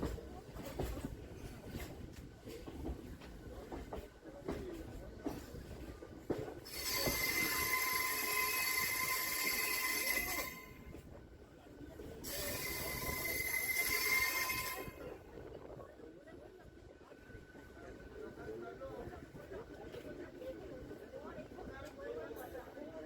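A Howrah–Digha local train rumbles along the tracks near the Panskura bypass cabin, heard from the rear of the train, with two bursts of loud, bright wheel squealing and a steady rolling clatter underneath.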